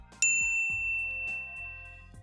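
A bright notification bell rings once, sharp and clear, with a long fading tone. Low thumping music sits beneath it.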